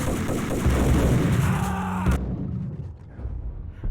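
Heavy gunfire from the Max Payne shooter game, a loud, dense barrage of booming shots that cuts off abruptly after about two seconds, leaving a faint tail.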